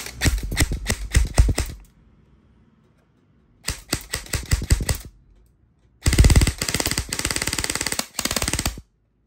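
E&C 603DE MK18 airsoft rifle with a 300-round camo magazine fires three loud, rapid automatic bursts, the last one longest, with brief silent gaps between them.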